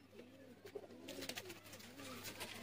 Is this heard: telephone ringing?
no